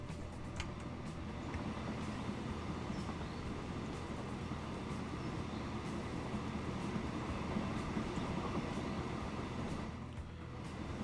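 A train rolls past a signal in the simulation game Transport Fever 2, making a steady, continuous rumble with faint clattering for about eleven seconds, fairly loud and unbroken, with no one talking.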